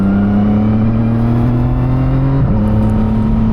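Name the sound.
CFMOTO 675SS motorcycle accelerating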